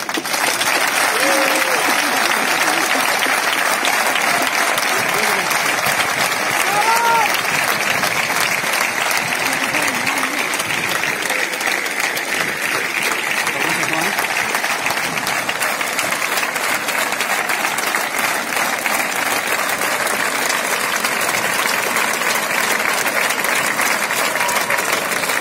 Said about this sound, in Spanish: Un aplauso para Pairotei.